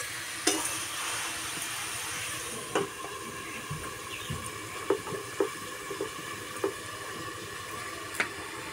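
Cucumber shukto being stirred in a pan over a low flame, with soft steady sizzling and a scattering of light scrapes and clinks from the spoon, fairly close and with no voices.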